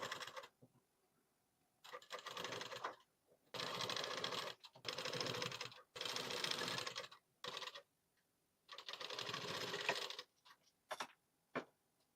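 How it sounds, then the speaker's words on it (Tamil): A sewing machine stitches double piping in two thread colours onto a blouse, running in several close bursts of rapid mechanical chatter separated by short pauses, with no talking. "இப்போ நம்ம ஸ்டிச் பண்ண மெட்டீரியல ப்ளவுஸ்ல வச்சு நம்ம ஸ்டிச் பண்ணணும்"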